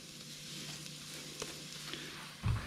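Onions dropped into a pan of toasting spices for chickpea curry give off a soft, steady frying hiss, with a brief thump near the end.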